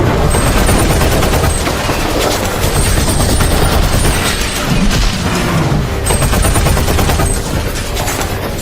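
Soldiers fire an oversized machine gun at a giant creature battling Kong in a monster movie scene: loud, relentless automatic gunfire mixed with heavy booms and crashes, continuous from start to finish.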